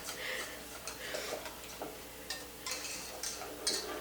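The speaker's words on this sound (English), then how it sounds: "so we just keep it whisking" A whisk beating chocolate ganache in a bowl, with quick light ticking and scraping strokes in an uneven steady rhythm, close and moderately quiet.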